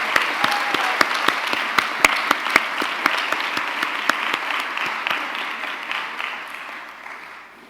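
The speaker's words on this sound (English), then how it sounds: "Yes, let's clap." Audience clapping at a commencement ceremony, a crisp round of applause with sharp individual claps standing out over the crowd, gradually fading toward the end.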